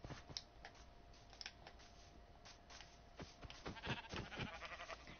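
Sheep bleating in a video game, several short repeated bleats scattered through the clip, moderately loud, with clicking keyboard-like sounds between them and no speech.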